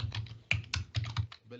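A name being typed on a computer keyboard, a quick irregular run of close key clicks with a few sharper strikes, steady and moderately loud.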